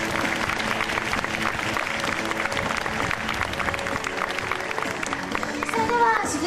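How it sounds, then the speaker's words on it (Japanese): An audience at a talk show in Hamamatsu's Hamakita district gives six players sustained, dense applause, steady throughout with some crowd noise and a voice briefly over it near the end. "改めて今日ここに参加してくださった6選手の皆さんに大きな拍手をお願いいたします。"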